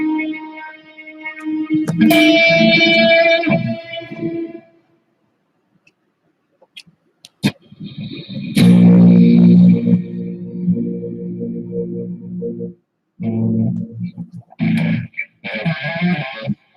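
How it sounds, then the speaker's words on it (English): Electric guitar during a live stream, played with a spacious reverb effect: chords ring out and decay into a long wash, leaving silent gaps between phrases, and the tone swells and sustains toward the end. "Mike, there's not a lot of reverb on this right now"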